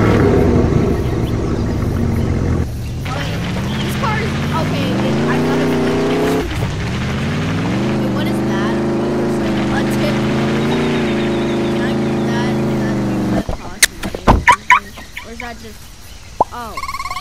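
A car's engine in the Roblox-style game Mad City, steadily droning as it revs and shifts pitch during the drive, loud and continuous, then cutting off into short clicks and bursts near the end.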